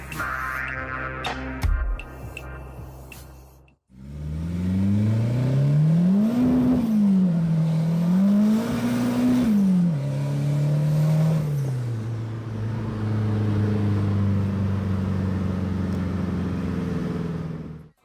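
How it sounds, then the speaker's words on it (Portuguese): A turbocharged Volkswagen Polo fitted with nitro revs and accelerates loudly up close, the engine pitch climbing and dropping through several sweeps before settling into a steady high drone, with a brief clatter beforehand. "A sensação de acelerar esse carro é uma coisa indescritível para mim."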